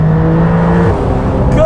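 A Porsche 911 GTS accelerates at full throttle in second gear from about 3,000 RPM, its engine roaring loud and close in a brief, sustained surge.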